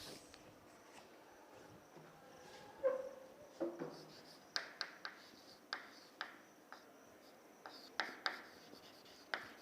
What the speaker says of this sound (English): it takes some time to write.